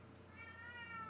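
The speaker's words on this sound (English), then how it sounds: "Yes, that is a cat." A cat gives a single short meow, faint and rising, with no other sounds alongside.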